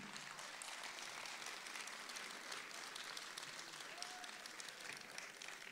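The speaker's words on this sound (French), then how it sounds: "on applaudit encore Hugo" An audience applauding an athlete at a sports awards night, dense sustained clapping from a large crowd that continues evenly throughout, heard at a distance in a hall.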